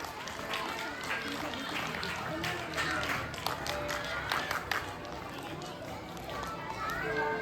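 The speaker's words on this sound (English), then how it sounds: "Keep clapping everyone for them." An audience at a school prize ceremony during Diwali and sports week celebrations claps in a steady patter, with children's voices and an announcer talking over it.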